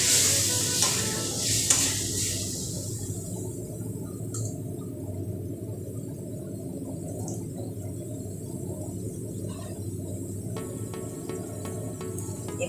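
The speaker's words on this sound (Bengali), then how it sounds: "একটুখানি জল দিয়ে দিব, কেননা মশলাটা তো ভালো করে ভাজতে হবে" A spice paste of ground raisins fries in a pan with a splash of water for a vegetarian potato and paneer curry, sizzling loudly at first with stirring scrapes, then settling into a softer continuous bubbling hiss.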